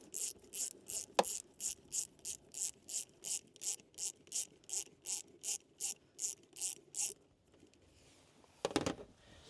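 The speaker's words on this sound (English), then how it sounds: "We're going to loosen up this clamp right here." Ratchet loosening an 8mm hose clamp on a 2015–2020 GMC Yukon thermostat housing: about fifteen even, close clicking strokes in a steady rhythm, then a brief pause and a quick metallic rattle.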